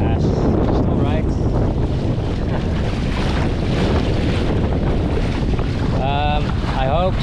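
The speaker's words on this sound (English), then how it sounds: "Yeah, just good fast sailing." A sailing canoe moves fast under two reefs, with constant loud wind buffeting the microphone and water rushing and splashing past the hull, and a few brief creaks near the end.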